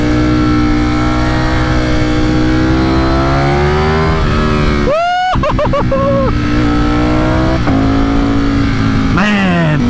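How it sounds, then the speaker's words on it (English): A Ducati StreetFighter V4S in race mode accelerates hard with a loud, close engine note climbing in pitch, then snaps through quick upshifts with sharp drops and re-climbs, while a rider talks over it. "Man, that upshift sounds delicious."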